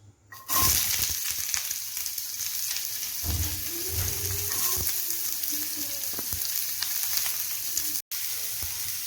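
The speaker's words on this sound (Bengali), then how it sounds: "পেঁয়াজ একটু ব্রাউন করে ভেজে নিলাম" Onions sizzling loudly in hot oil for a Katol fish curry, a continuous close crackle with occasional stirring scrapes and a brief cut near the end, no voices.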